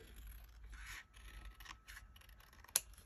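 Scissors trimming paper scraps for a journal craft, soft close snipping and rubbing of paper in short bursts, with one sharper click near the end.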